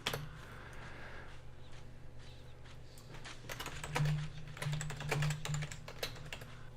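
Fast, irregular clicking of computer keyboard keys as someone types while playing the online role-playing game EverQuest, close and moderately loud over a low steady hum, growing denser toward the end.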